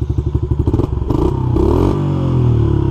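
Honda CRF70 dirt bike engine running close up after being revived, a loud steady chugging idle with a rapid pulsing beat that settles into an even rumble, with no talking.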